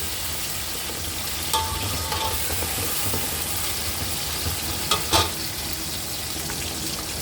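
Garlic-ginger paste frying in a pan of beef pulao, a steady, close sizzle and hiss with a few brief scrapes and clinks of a stirring spoon, and no voices.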